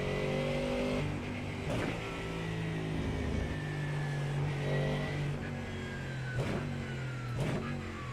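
Mustang GT3 race car in a racing video game at Road Atlanta, engine revving hard and steadily through the whole stretch with rising and falling pitch and sharp gear-shift breaks, loud and close.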